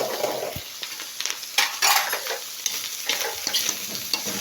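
Food stirred in a frying pan while cooking Bicol Express, with continuous sizzling and repeated scraping clinks of a utensil against the pan, close and fairly loud, with no talking.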